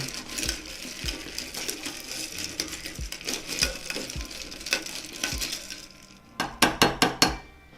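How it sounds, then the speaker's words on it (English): A cocktail is stirred in a glass with a spoon, giving a continuous scraping swirl followed by a run of five or six bright, close clinks against the glass at the end. "Give it a stir."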